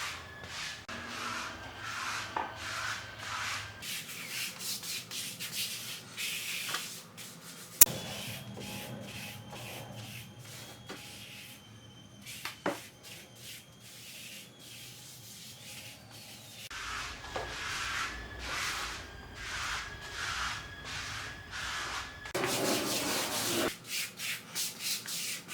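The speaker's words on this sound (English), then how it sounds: "Push it in using that Grout Float, that trowel, and then using diagonal strokes" A grout float pushes grey grout into the gaps between tiles in diagonal strokes, giving a close, continuous gritty scraping and rubbing in repeated sweeps, with occasional small knocks.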